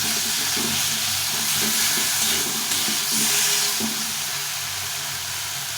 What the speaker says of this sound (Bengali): শোল মাছের মুড়ো আর লেজেটা দিয়ে দেবো এটা দিয়ে লাউটা করবো এটাকে ভালো করে ভেজে রেখেছিলাম আবার একটু মশলা দিয়ে কষিয়ে নেব